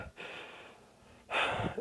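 Heavy, ragged panting after a brutal attack: two loud breathy bursts with a quieter breath trailing between them, close and alone.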